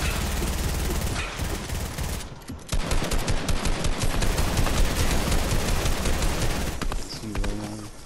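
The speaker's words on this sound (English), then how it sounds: "Why is Davis shooting Rollmonger?" Gunfire erupts in the video game Fortnite as dense, rapid bursts of automatic shots rattle loudly for several seconds, with brief pauses between volleys.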